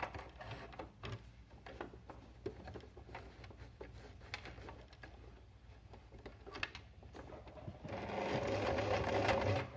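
A sewing machine stitches a fabric face mask in fast, even mechanical ticking that runs steadily, then turns louder and denser near the end, close by with no talking.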